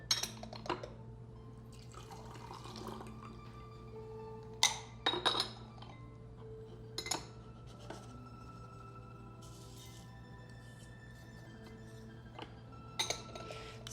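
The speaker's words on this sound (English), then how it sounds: "the reason we've now warmed and rinsed the gaiwan" Hot water is poured into a tea gaiwan to warm and rinse it, with gentle dripping, trickles and several sharp porcelain clinks of the lid and cup, close and quiet, with no talking.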